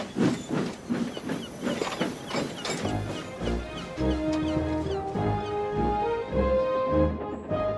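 A cartoon steam locomotive, Gordon, leaves the docks with rhythmic hissing steam puffs and mechanical clanks up front, then a bright musical score with sustained tones rises over the engine sounds.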